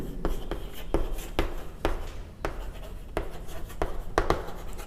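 Chalk or marker writing on a classroom board during an engineering lecture, with a series of short, distinct scratchy strokes and taps at an irregular rhythm, close and fairly clear.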